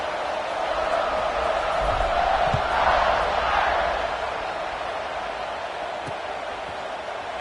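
Steady, moderately loud roar of a college football stadium crowd at a Navy game, swelling slightly around kickoff and then holding as a broad wash of noise with no clear voices.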